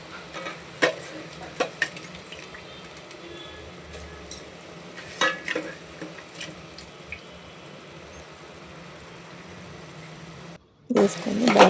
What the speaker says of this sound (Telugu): బాగా కలుపుకొని మసాలా అంతా కలిసేలా కలుపుకోండి.